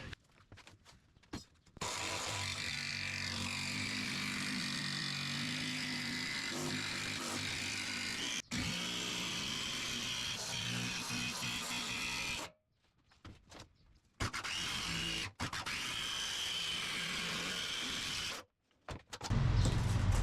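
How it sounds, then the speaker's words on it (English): A jigsaw cuts a window panel template for a 1996-2002 third-generation Toyota 4Runner gullwing window, buzzing steadily and loud in several long bursts separated by short pauses. "For this, I'm gonna use a jigsaw to cut around it."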